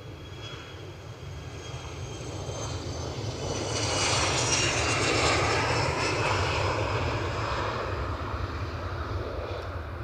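An Airbus A320 jet at Edinburgh Airport gives a steady, loud engine roar that swells toward the middle and then eases slightly, heard alone without talk.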